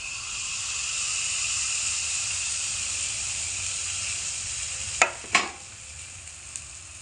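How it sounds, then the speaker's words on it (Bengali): Batter for ksheersa patishapta poured into hot oil on low heat gives a steady, even sizzle, with two sharp clicks near the end; no one speaks. "এবার কিছুটা পরিমাণে ব্যাটার নিয়ে তেলের মধ্যে দিয়ে দেব।"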